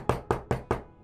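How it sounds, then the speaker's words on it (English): Four sharp, evenly spaced knocks on a wooden door in the video game Final Fantasy XIV, close and clear with nothing else heard. "You knock on the door."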